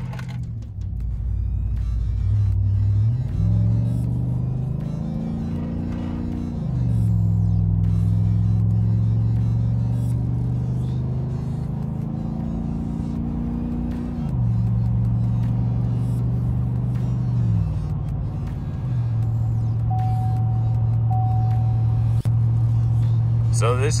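Cabin drone of a brand-new truck cruising on a highway at about 70 mph, a loud steady low hum that rises and settles as the engine shifts, with a person talking throughout.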